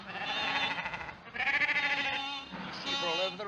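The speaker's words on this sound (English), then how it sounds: "Sheep are all over the road, damn silly things" A flock of sheep bleats on a road, overlapping cries rising and falling in several long, wavering calls close by, with a slight thin, old-film quality.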